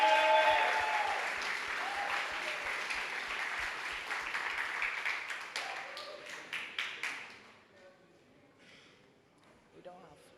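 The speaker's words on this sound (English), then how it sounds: "Please join me in giving them a really big round of applause." A crowd at a poetry event during a literary festival gives loud sustained applause that thins into scattered individual claps and fades toward the end, with a few voices heard.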